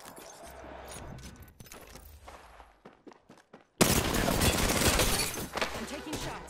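Gunfire in the Apex Legends battle royale on World's Edge: after a quieter stretch of footsteps and faint shots, a loud burst of rapid gunfire erupts and continues densely to the end, with game voice lines around it.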